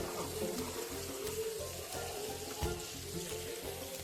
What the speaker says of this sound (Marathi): छान असे हे फ्राय करून घ्यायचे चांगली शिजेपर्यंत